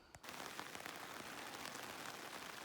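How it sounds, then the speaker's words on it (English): Steady rain patters densely on a tent during a Rockies hiking trip, a close, even hiss with scattered drop taps and no voices. "It won't stop raining."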